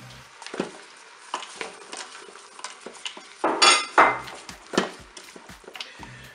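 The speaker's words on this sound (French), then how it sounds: "Là je vais ajouter mes carottes." Carrots tumble into a Cookeo multicooker pot and get stirred, giving a series of clattering utensil scrapes and knocks against the pot, with a louder burst of clanking midway, close up and without talk.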